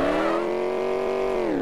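Car engine in the Enviro Bear 2000 video game, driving and skidding on snow: a steady, loud, continuous engine drone with a sustained tonal whine throughout, no talk.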